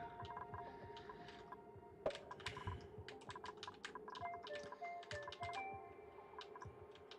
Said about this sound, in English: I want to see if I can hear my keyboard clicking.